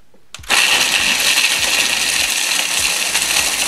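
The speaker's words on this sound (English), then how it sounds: "So I'm just gonna turn on my blender, my food processor." A food processor being used to make DIY laundry detergent switches on after a brief pause and keeps up a loud, steady motor whir, with a dense broadband roar and faint rhythmic thumps beneath it.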